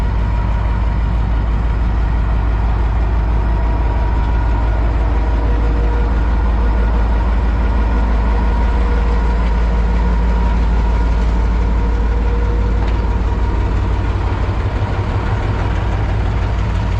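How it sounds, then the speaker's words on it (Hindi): A train sits at a platform of Sargodha Junction railway station, its engine giving a loud, steady low rumble and drone that holds unchanged throughout. "तो अभी इसको इस प्लेटफॉर्म से निकालेंगे क्योंकि रात को मज़ीद भी ट्रेन आनी है"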